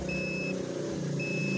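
A multimeter's continuity buzzer sounds while testing a shorted B+ electrolytic capacitor near the flyback of a TV with no power. There are two steady, thin electronic beeps, one near the start and one near the end, over a constant low hum.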